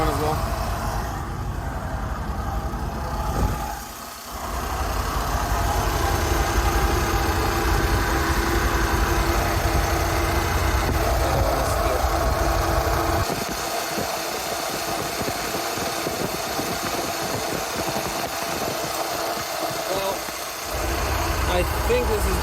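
Rolls Royce Silver Shadow engine idling steadily during carburettor tuning, a continuous low rumble close by that swells slightly as throttle is adjusted, with someone talking intermittently over it.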